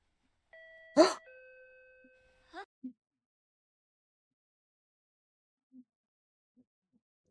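School bell chime in an anime classroom scene, a single clear ding-dong tone sounding briefly and then fading into near silence.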